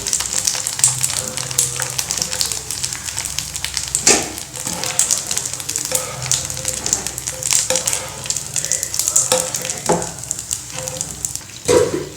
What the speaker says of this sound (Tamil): பாஸ்தா சில்லியாக பொரிச்சு எடுத்துட்டோம்